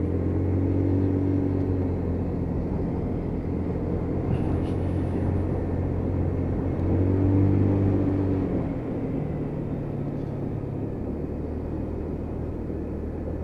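A Lexmoto Titan motorcycle with a fuel issue drones steadily on a test ride, its low engine hum swelling and easing slightly under constant road and wind rumble.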